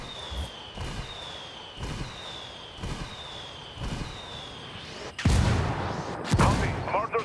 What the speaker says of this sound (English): I'm calling for indirect fire.